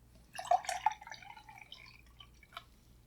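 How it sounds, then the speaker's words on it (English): Juice pours briefly into a container, then dribbles out during homemade winemaking, close and fairly soft, with a single drip near the end. "So I'm going to open it up. I'm going to pour off a little bit."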